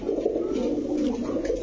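Pigeons coo in a low, continuous, throaty murmur close by, steady for the whole short moment with no voices over it.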